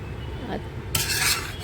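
A utensil stirs rice into jaggery and grated coconut in a pan, with a soft scraping rub followed by a brighter, louder rasping scrape near the end, heard alone.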